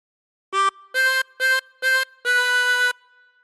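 A chromatic harmonica plays a short phrase of "We Wish You a Merry Christmas" as five reedy notes: four short even ones, then a longer held final note. It sounds close, solo and clear.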